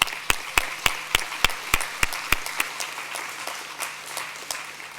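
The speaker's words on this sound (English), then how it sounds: "I think she deserves another round of applause." A conference audience gives a round of applause: a few sharp, evenly spaced claps that thin out and fade over the last seconds, with no talk.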